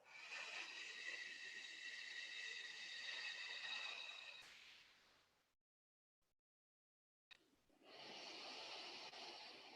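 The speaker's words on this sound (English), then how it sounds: "and breathing out through the mouth." A person breathes out slowly and softly through the mouth in a long, gentle hiss, goes quiet for a moment, then starts another slow exhale.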